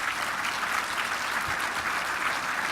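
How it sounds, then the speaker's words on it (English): Steady, dense applause from a conference audience, even and sustained with no voices over it. "Please give a round of applause to Shannon Bream,"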